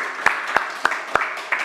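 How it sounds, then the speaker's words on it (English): Scattered audience clapping at an evening talk, a few distinct sharp claps standing out over a soft bed of applause and room murmur. "A round of applause for Ann"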